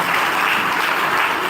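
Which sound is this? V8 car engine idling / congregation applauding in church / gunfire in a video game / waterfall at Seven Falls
congregation applauding in church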